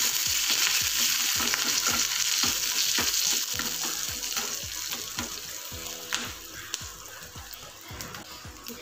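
Garlic and curry leaves sizzle hard in hot tempering oil, a loud, continuous crackling hiss broken by regular scraping stirs of a spoon in the pan.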